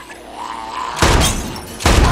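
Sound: gunshot shattering a glass bottle

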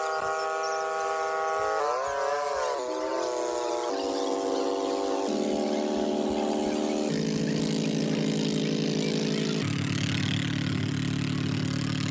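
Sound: vehicle engine running

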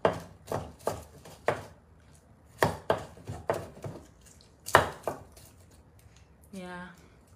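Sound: chopping garlic

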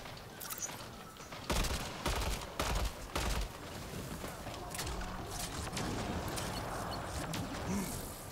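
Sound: sniper gunfire in Mass Effect: Andromeda video game

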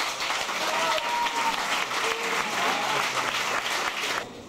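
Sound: audience applause at an award ceremony

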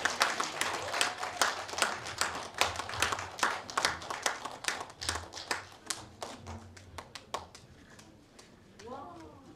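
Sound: audience applause at awards ceremony

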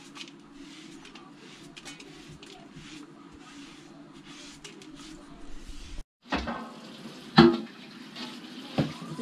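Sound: washing fresh vegetables under running tap water

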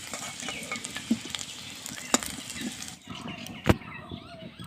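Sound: potatoes frying in oil

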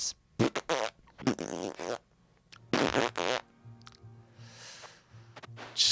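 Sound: fart noises in Vagante video game

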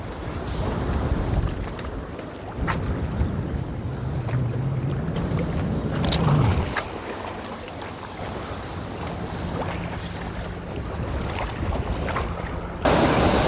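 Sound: strong wind at the sea while fishing

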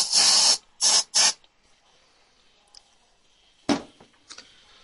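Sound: fly spray aerosol spraying

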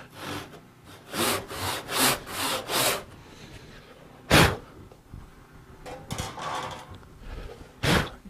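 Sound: rough hand saw widening a kerf in wood

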